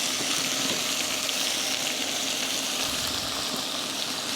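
Ginger hits a pan of cooked beef with a steady close frying hiss, a wet bubbling sizzle holding level with a brief rumble of movement near the end.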